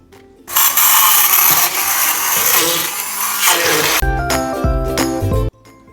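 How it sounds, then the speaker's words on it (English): A handheld blender whirs loudly and harshly for several seconds as it purées cooked vegetables, then shifts to a steadier, lower-pitched motor hum before cutting off. "with a hand blender, mix everything together of the remains of the vegetables"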